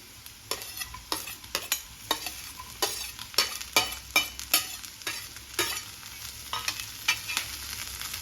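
Carrots and frozen green peas sauté in a pan for puffed rice upma, with a spatula scraping and stirring in quick, irregular strokes over a soft, steady sizzle, close and fairly loud.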